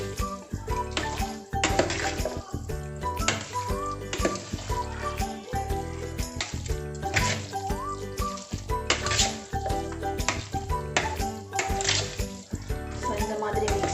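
Curd rice stirred with pomegranate seeds and black raisins, with wet squelching and repeated scraping of a spoon in a vessel, steady and close, under background music.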